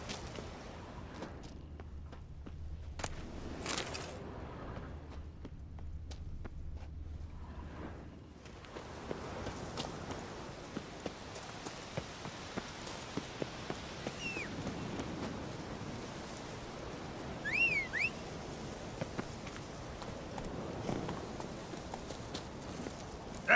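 Hooves of Roach, Geralt's horse in The Witcher 3, clip-clopping at a walk over open ground, a steady soft rhythm amid ambient outdoor wind and water-like background.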